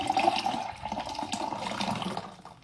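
Fever-Tree club soda with Scottish sea salt is poured into a glass, a close, bubbling liquid stream that trails off at the end.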